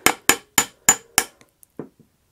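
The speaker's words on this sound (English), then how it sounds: "I just have like a tiny little tack hammer" A tiny tack hammer taps tremolo springs out through the string holes of an electric guitar body, five sharp metallic strikes at an even rhythm, followed by a few faint light knocks.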